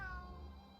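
A cat meows once in the Atelier Ryza 3 video game, a clear, close, tonal call over a low background hum, fading out within a second.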